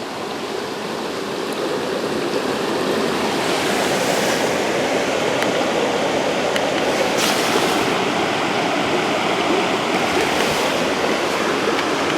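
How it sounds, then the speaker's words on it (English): A river rushes past about twelve feet away on a remote backcountry trail, a loud, dense, unbroken roar of flowing water holding steady throughout. "I get the sound of the river like a horn coming down"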